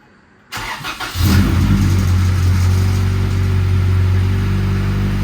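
A Honda Civic engine cranks briefly after a moment of quiet, then catches and settles into a steady, loud, close idle with a constant low hum running to the end.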